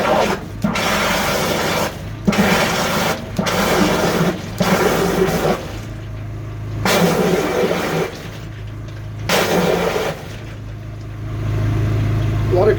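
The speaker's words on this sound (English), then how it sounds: "A lot of gravel came out of that." Gravel and water blast out of a blocked drain in repeated loud rushing, rasping bursts separated by brief lulls, with an engine droning underneath and people talking.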